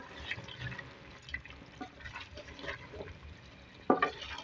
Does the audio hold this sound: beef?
yes